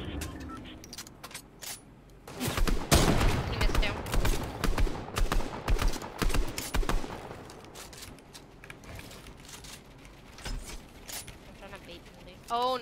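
Gunfire in a Fortnite-style shooter, with sharp sniper and rifle shots in scattered bursts, some close and loud, others fainter, over gameplay sounds and players talking.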